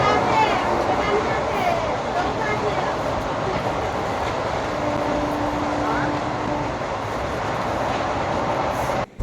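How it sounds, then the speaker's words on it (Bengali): Interior of a moving passenger train in India, a continuous loud rumbling and rattling of the carriage with wheel clatter, while people talk over it. "দেখো বন্ধুরা, ট্রেনে উঠেছি"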